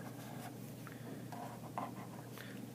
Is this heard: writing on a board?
yes